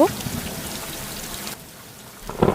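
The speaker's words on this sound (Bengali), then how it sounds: "বাইরে প্রবল ঝড় বৃষ্টি হচ্ছে" Cartoon sound effect of a heavy rainstorm: a dense, even hiss of falling rain that drops to a quieter wash partway through, with a brief louder burst at each end.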